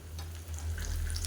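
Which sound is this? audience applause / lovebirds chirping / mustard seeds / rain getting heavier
mustard seeds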